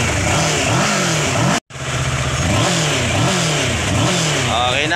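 Kawasaki 650cc motorcycle engine that had trouble starting, running loud and close with repeated rising and falling revs, cutting out briefly before catching again and revving on steadily.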